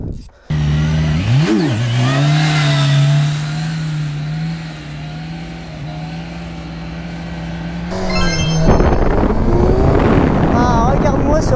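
A Kawasaki motorcycle engine hums steadily, blips in a quick rev near the start, then surges louder with wind rush near the end, close to the microphone.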